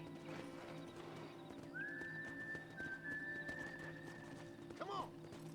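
Hooves clip-clop steadily while a horse whinnies near the end in the video game Red Dead Redemption, over a low background hum and a long whistling tone.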